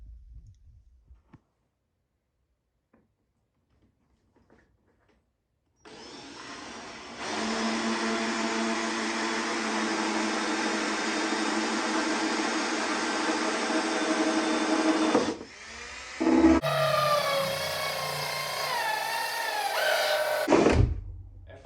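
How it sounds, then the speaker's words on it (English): Power drill boring holes for a snorkel install on a Polaris Sportsman 450 ATV, a loud steady whine lasting several seconds, then a second shorter burst with varying pitch after a brief pause, no talk. "Finally get all your holes drilled"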